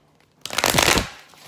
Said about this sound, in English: I'm using the Marielle Tarot today. It's always a little bit hard to shuffle.